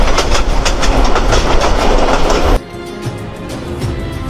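A passenger or freight train near Parbatipur, Nilphamari, Bangladesh, travels along the rails with a loud, steady clickety-clack of wheels and rolling carriage noise, dropping suddenly to a quieter rumble partway through.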